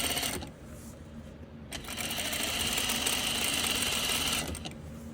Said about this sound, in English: I'm gonna do one more seam, lining up the edge of the sewing machine foot